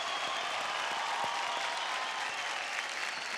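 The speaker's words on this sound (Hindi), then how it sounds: "एक बार जोरदार तालियां हो जाए आदि भैया के लिए" An audience on a televised singing contest stage claps together in a full, sustained round of applause, steady and fairly distant, with no talk over it.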